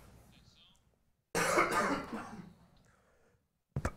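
A person coughs once up close, a loud, broad burst lasting about a second that tails off into quieter noise, with a short sharp sound right at the end.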